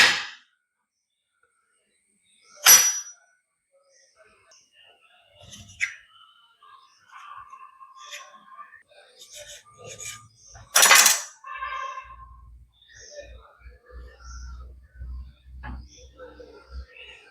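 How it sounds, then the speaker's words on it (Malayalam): Rolled dough for Mutta Cake is cut into pieces and dropped into a bowl, heard as a few sharp metallic clinks and knocks against the dish. Quieter soft handling sounds fall between them, with a low hum near the end. "ഇങ്ങനെ ഞാൻ ഇങ്ങനെ കട്ട് ചെയ്ത് ഒരു പാത്രത്തിലോട്ട് ആക്കുകയാണ്"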